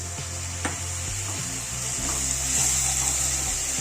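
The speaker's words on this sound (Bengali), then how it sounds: "চিংড়ি মাছটাকে এক সঙ্গে মিশিয়ে নেবো মশলার সঙ্গে" Prawns with salt, spices and a little water being stirred in a hot pan for a green banana and potato ghonto, giving a steady close sizzle broken by quick scraping spatula strokes and clicks.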